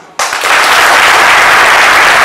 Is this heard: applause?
yes